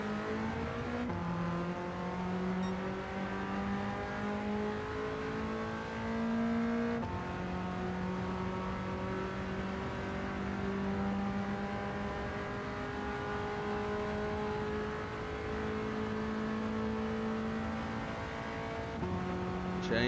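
A BMW M3 Sport Evolution ('89) in Gran Turismo 7, racing at Le Mans on a wet track, drones steadily as its engine climbs in pitch, with distinct upshifts that drop the note before it rises again, loud and continuous throughout.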